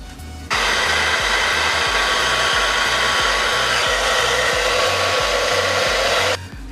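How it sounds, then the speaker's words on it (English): A handheld hair blow dryer runs on its cool-down setting as a steady, loud whooshing roar, switched on after a brief pause and cut off near the end, with no voices. "Your blow dryer should have this, which is the cool down setting,"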